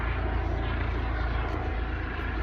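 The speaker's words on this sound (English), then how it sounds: "Oh my gosh, there's a helicopter." A helicopter passes overhead outdoors, a steady loud low rotor and engine drone that fills the whole stretch without letting up.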